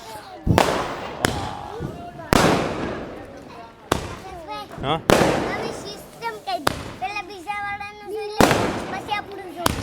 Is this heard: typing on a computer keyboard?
no